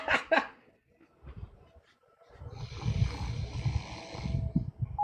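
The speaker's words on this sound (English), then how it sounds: "I hear snoring." A person snoring over an online call, with rough, rumbling breaths that swell and fade, preceded by a few short laughs and faint background noise.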